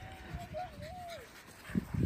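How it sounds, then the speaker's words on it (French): A small dog whines in a wavering, drawn-out tone, then breaks into a few short yips and barks close by, over faint background noise. "c'est notre seul chien obèse"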